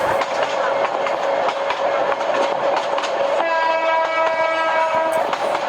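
A train in the Train Simulator Bangladesh video game runs between Bhatiari and Fauzdarhat stations with a continuous rumble and clatter of the cars, and a horn tone sounding in the second half, with no talk over it.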